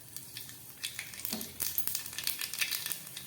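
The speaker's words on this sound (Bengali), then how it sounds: "তেলটা গরম হয়ে গেছে। এবার আমি এর মধ্যে দিয়ে দিচ্ছি কিছুটা কালো জিরে ফোড়ন।" Black cumin seeds (kalonji) dropped into hot oil for tempering, crackling and sizzling with a busy, irregular hiss that swells after a moment, close and fairly soft, with no talking.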